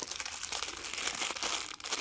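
Crinkly plastic packaging around small journal stickers being unwrapped close up, a continuous dense crackling and rustling throughout without any voices.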